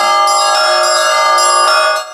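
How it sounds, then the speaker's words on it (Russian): Church bells ring out over a bay beside a seaside church in Murmansk, a sustained bright metallic peal with overlapping strikes at a steady pace, loud and close, fading at the end. "И вот над бухтой разносится долгожданный колокольный звон."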